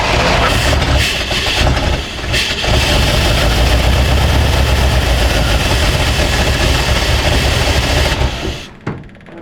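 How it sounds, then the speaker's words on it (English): An old GMC truck engine, sitting for 30 years, catches and runs loudly on too much choke, churning in a rough, continuous roar close up before dropping off abruptly at the end. "Okay, it started, but now the choke won't release"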